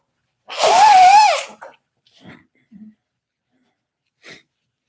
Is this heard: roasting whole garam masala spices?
no